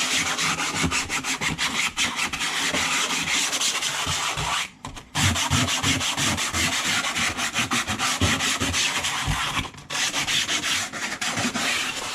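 Sanding a Jeep Gladiator hardtop by hand in circular motion gives a steady, close abrasive rubbing that runs almost continuously, with two brief pauses between strokes and no talking.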